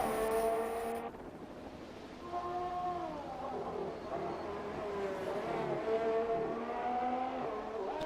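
A GP2 race car engine from a sim racing league round at the Hungary circuit drones loudly, its pitch rising and falling as it shifts and accelerates out of a corner, with no talk over it.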